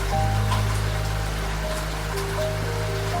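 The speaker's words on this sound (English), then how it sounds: "One more evening of rain on the tin roof" Steady rain patters on a tin roof, a dense continuous wash of drops with a low constant hum beneath it, unbroken throughout.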